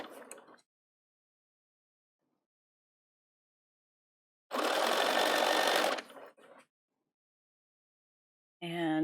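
A Bernina 770 sewing machine edge stitches with an edge stitch foot in one close, loud burst of about a second and a half, a brief follow-up run, then silence before a short snippet of voice.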